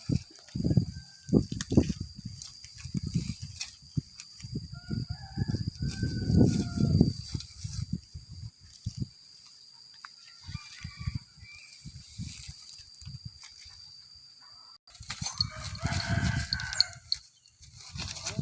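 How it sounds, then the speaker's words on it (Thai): A breeding rooster on a farm crows twice, fairly close, the calls rising above a steady background of scuffling, handling noise and faint ambient hum. "หันมาแล้วโซ่ขันมาแล้ว"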